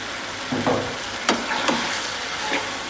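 Large prawns being stir-fried in a pan with spices, a constant bright sizzle with a few soft scrapes and taps of a spatula, no voices.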